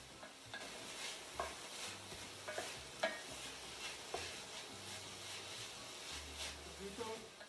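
Sofrito with shredded carrots cooking in a pot, a soft continuous sizzle with occasional stirring scrapes and clicks, faint and close, with speech over part of it.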